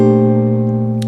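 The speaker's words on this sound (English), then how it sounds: "I'd like to play these sorts of endings in octaves because it gives it a little more command" A sustained, loud held chord voiced in octaves closes out a big band style ending on a single instrument, ringing steadily for about a second with no talk over it.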